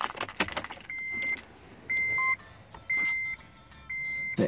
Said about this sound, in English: Then turn the ignition switch